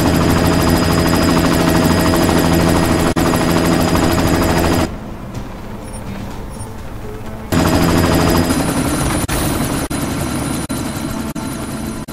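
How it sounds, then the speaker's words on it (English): A helicopter in the video game Deus Ex: Mankind Divided churns with a loud, steady rotor drone and rapid gunfire bursts, cutting out abruptly for a few seconds of near quiet before the same heavy roar resumes. "You've got to stop that chopper."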